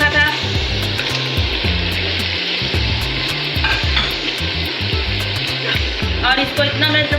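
Sliced tomatoes dropped into ginger-garlic paste frying for a Degi white chana dish, setting off a loud, continuous sizzle with spoon clatter and stirring, close up, with no talk over it.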